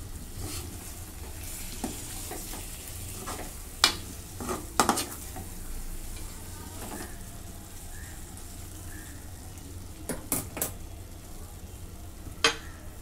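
Masala eggplant stirred and frying in a pan with crushed peanuts mixed in, a quiet steady sizzle under occasional sharp scrapes and clinks of the spoon against the pan.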